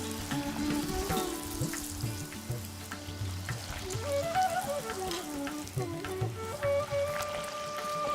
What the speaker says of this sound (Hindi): अभी तेल गरम हो गया है, हम पकवान को उसमें डाल के उसको